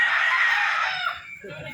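A gamecock rooster crows loudly and close, one long sustained call filling most of the moment before trailing off into quieter background sounds.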